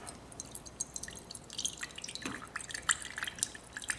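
Liquid draining from the tap of an air still used to make essential oils, a series of irregular small drips and trickles, close and fairly quiet.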